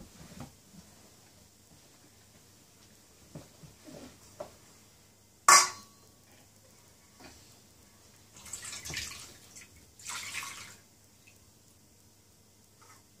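Water poured over hands during ritual Jewish handwashing, a sharp splash followed by soft intermittent trickles and drips, close and fairly quiet.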